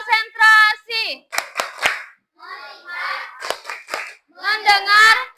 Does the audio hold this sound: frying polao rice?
no